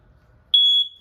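A loud, steady high-pitched electronic alarm tone from a propane detector in a 2023 Forest River Surveyor travel trailer sounds continuously for about a quarter second after quiet, then cuts off.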